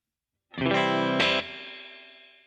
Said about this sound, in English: I'm going to switch to the plate reverb.